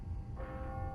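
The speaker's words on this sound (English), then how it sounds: "Oh, the church bells." Church bells ringing in the Spider-Man: Miles Morales video game, a brief tonal strike swelling in over a low, steady rumble of background ambience.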